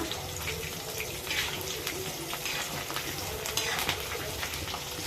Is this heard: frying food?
yes